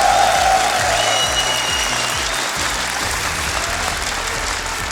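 A stadium crowd at a Rocket League Championship Series grand final applauds steadily for the esports players, a broad sustained roar of clapping and cheers filling the arena, with faint background music underneath.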